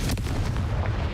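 The Confringo blasting spell in Hogwarts Legacy, a single sharp, booming burst with a rumbling low tail, loud and close, no talking.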